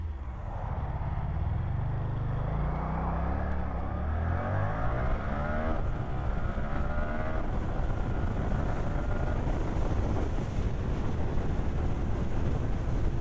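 A Suzuki GSX-8S motorcycle pulls hard through the gears, its engine note climbing repeatedly in rising revving sweeps under steady wind rush on the move, with no talk.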